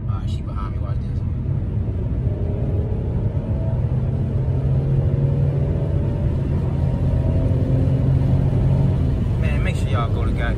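A Pontiac Grand Prix accelerating and shifting through its gears, a steady low engine and road rumble continuing close by throughout, with someone talking over it.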